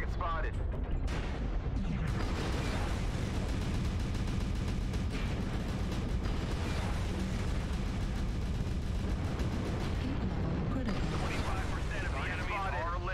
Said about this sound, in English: He's probably gonna die to the artillery strike if he's unlucky.